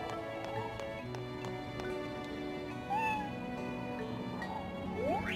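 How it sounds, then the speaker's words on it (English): A cat meows in the farming game Harvest Moon: Animal Parade, giving a couple of short, rising meows over steady background game music. "We do have a cat to befriend."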